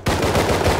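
Gunfire in the survival game Rust, a loud, close burst of rapid shots filling the whole short moment with dense, harsh cracks and no voices over it.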